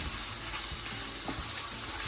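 Ground meat mixed with salt, pepper, cumin and sweet paprika sizzles in a pan as it is stirred, a dense close crackle broken by a few scraping knocks, with no talking.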